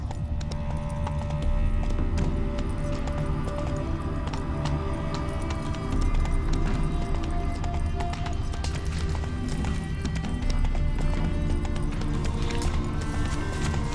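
Steady rhythmic hoofbeats of a galloping horse in the video game The Witcher 3, over a constant low rumble and music-like tones, continuous and fairly loud throughout.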